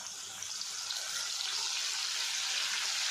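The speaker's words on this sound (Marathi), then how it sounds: "बघा हे पाणी मी टाकते परत." Water splashed into hot oil in a large kadhai while banana wafers fry, giving a loud, continuous hiss and sizzle that builds steadily and holds.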